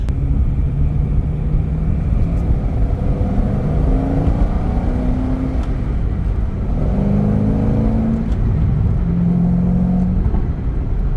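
A 2013 Chevrolet Corvette 427 with a manual gearbox drives along, its engine a steady loud rumble that rises and falls in pitch as the gears shift. Heard from inside the car, no talking.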